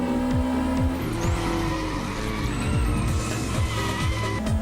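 MG F race cars racing in a pack at the start of a championship race, tires squealing and engines roaring loud and close as several cars pass and skid, with no talking.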